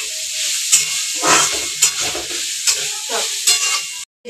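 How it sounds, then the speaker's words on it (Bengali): Onion being stirred and fried in a pan for chicken momo filling, a constant hot sizzle broken by repeated scraping strokes of the spoon at irregular intervals, close and loud, cutting off abruptly near the end. "তো পেঁয়াজটা দেওয়ার পর আমি ভালো করে নাড়াচাড়া করে নিচ্ছিলাম।"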